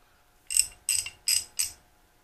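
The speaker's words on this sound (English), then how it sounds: "they exchanged it out for this one, which is half inch drive also. Just has a different style head on it." A Harbor Freight half-inch drive ratchet with a different style head, not the quick-release kind, gives four short, evenly spaced bursts of clicking, close and fairly quiet, with no talk.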